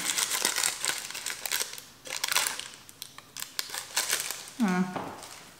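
A new Louis Vuitton Speedy purse is unwrapped from its packaging, close crinkling and crushing of wrapping in irregular bursts, with a brief vocal sound near the end.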